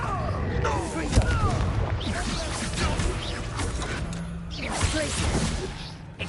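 Confringo spell blasts in a Hogwarts Legacy duel, whooshing fiery bursts and booming impacts piled densely over continuous combat noise, with shouted spell incantations and voices mixed throughout.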